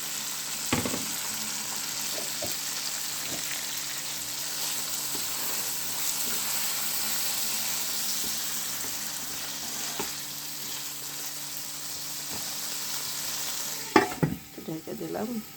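Thinly sliced potatoes frying with a little salt in a pan, a faint steady sizzle running throughout with occasional stirring clatter and a louder scrape near the end.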